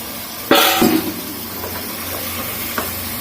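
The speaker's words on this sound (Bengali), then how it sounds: "এখন আমি এখানে কেটে রাখা মাংসগুলো দিয়ে দিচ্ছি।" Cut beef pieces dropped into a hot pan for a Bengali beef curry, giving a loud burst of sizzle and a clatter that settles into a steady, quieter frying hiss with one faint clink later.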